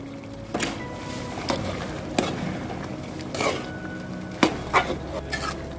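A spoon scrapes and clinks in a pan of Kerala-style mutton chukka with fried onions, a few distinct stirring knocks spaced over a soft background sizzle, with no talking.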